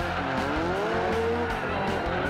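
Tires squealing as race cars with nearly 1000 horsepower drift on a circuit in a tandem battle, loud and continuous with a rising pitch over rhythmic engine revving.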